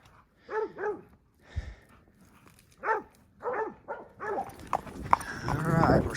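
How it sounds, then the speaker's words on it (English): Working dogs bark while holding up a herd of cattle on horseback, several sharp, separate barks at close range with pauses between them, then a burst of mixed animal and outdoor noise at the end. "The dogs hold them up again, wait for me to catch up."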